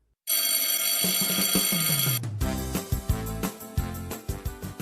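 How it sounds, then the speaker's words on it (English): A loud electric bell rings continuously for about two seconds, then cuts off, followed by scattered clattering and knocking sounds. "the dismissal bell is ringing"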